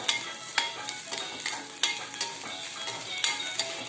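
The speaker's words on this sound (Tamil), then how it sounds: "வெங்காயம் வதங்கிருச்சு." Onions being stirred and sautéed in a pan, a steady close sizzle punctuated by regular scraping clicks of the spoon against the pan, no voices.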